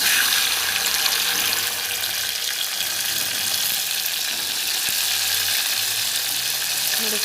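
Water pours into a pan of sautéed moong dal, a continuous rushing, splashing flow over a lingering sizzle, close up and steady throughout.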